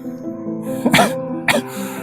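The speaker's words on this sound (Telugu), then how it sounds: "సో ఈ కోల్డ్ అండ్ కాఫ్ అయితే అసలు ఇంకా తగ్గట్లేదు." Two sharp coughs from a person with a cold, a heavier one followed half a second later by a shorter one, close and fairly loud over a quiet background.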